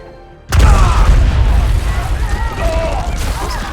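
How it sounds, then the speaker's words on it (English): A huge movie explosion bursts in suddenly with a deep, loud boom, then a long rumbling roar with crackling debris that slowly fades. "and then the whole Big Bang explosion"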